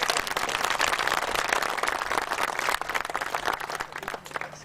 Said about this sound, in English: let's give that a round of applause for Marshall